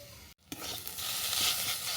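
A cauliflower and grated boiled potato filling with cumin powder, garam masala and sugar frying in a pan, a brief moment of silence before a rising, close sizzle with a stirring scrape.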